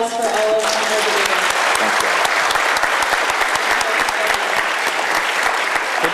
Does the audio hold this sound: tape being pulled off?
no